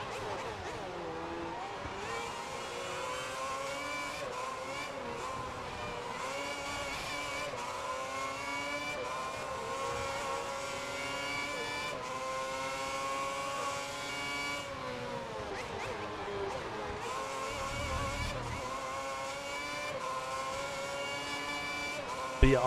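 Race car engines from the F1 2010 video game roar continuously with rising and falling revs, loud and steady throughout, with gear shifts audible as pitch sweeps.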